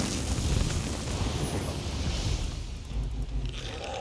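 A Mages' Wrath spell explodes in the video game Elder Scrolls Online, a loud, dense roaring burst that rumbles across the whole span with no talking.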